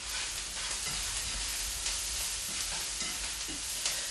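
Onions frying in a pan with oregano give a quiet, even sizzle, with faint stirring scrapes woven through it.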